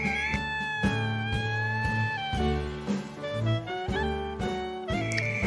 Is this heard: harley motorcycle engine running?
no